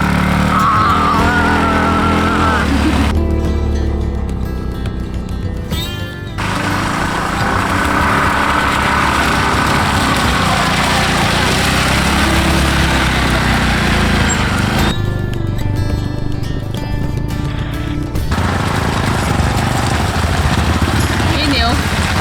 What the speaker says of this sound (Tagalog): Motor trip lang kami ni Mark.